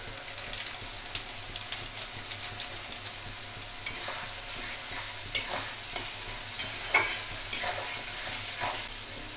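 Sliced onions fry with salt and turmeric in a pan, giving a steady soft sizzle with intermittent scraping stir strokes and clinks of a spatula, close and moderately quiet, no talking.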